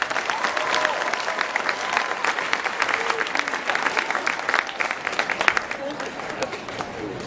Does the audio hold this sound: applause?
yes